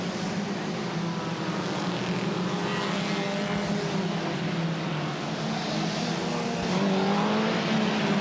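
Saloon stock cars racing on the track at Ipswich, a steady, loud roar of several engines with a rising and falling drone that holds for the whole clip and swells slightly near the end.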